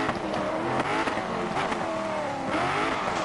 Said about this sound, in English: Sit there revving it in neutral, not even realising.